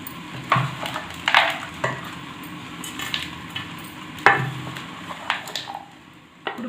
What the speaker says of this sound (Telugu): ఇప్పుడు మనం కలుపుకుందాం